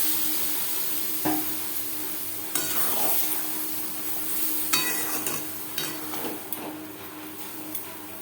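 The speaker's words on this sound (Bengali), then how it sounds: "পনির সাথে ডাল ও চিচিঙ্গা বেশ ভালো করে মিক্সড করে দেবো" A spoon scrapes and stirs masoor dal, snake gourd and fried onions in a pan with a few sharp clatters, over a soft background sizzle; no one speaks.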